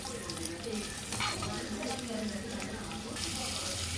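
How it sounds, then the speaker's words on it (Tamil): Onions and curry leaves sautéing with spices in a pan for a Tamil-style beef gravy, giving a steady, close sizzle with stirring scrapes that runs continuously and moderately loud with no talk. "இதை நல்லா வதக்கிக்கோங்க. நல்லா கோல்டன் ப்ரௌன் கலரில் வரணும்."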